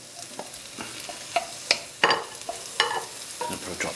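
Cooked prawns hitting a hot pan for nasi goreng, with a steady sizzle punctuated by several sharp stirring scrapes and clacks of a utensil against the pan, close, with no talking.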